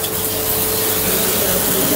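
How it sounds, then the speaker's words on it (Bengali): A powerful car-wash jet spray blasts onto an Oppo F29 smartphone, producing a steady, loud rushing hiss that holds unbroken for the whole stretch. "ভাবতে পারছেন কার ওয়াশিং জেট স্প্রে আমরা কিন্তু এখানে দিচ্ছি"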